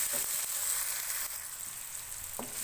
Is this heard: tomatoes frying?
yes